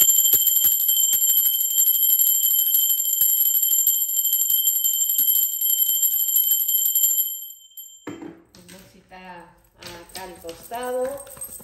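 A bell rings with a bright, sustained metallic tone whose shimmering overtones hold steadily for several seconds before cutting off, after which a person starts talking.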